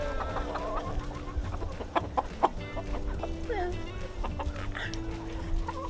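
Hens cluck in a backyard chicken coop, with soft repeated clucks and occasional squawks over a low steady hum. A quiet voice murmurs in the background.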